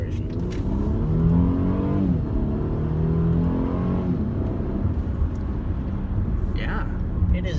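A 2016 Mercedes E350 engine rises in pitch as it accelerates, revving steadily up through the gears, with a voice speaking briefly over it.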